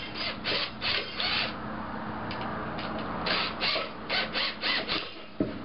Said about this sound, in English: I'm going to tighten the screws up.